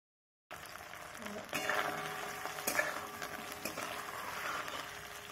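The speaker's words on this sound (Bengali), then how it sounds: "এবার আমি কড়াইতে তেল দিয়ে ডিমগুলো ভালো করে ভেজে নেব।" Cut pieces of boiled egg fry in oil in a kadai, a soft, fairly quiet sizzle broken by a few sharper clatters as the pieces are moved.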